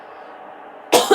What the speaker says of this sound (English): Have I heard a cough again?